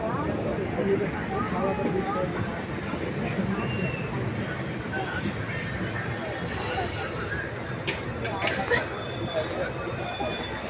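A general-coach passenger train from Erode to Kannur runs through forest, with continuous wheel rumble, clatter and squealing of rails heard from inside the carriage and faint voices in the background.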